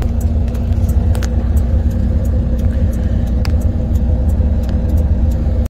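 A semi truck idling and creeping backward to connect to a trailer, with a loud, steady diesel rumble and faint clicks and clinks over it.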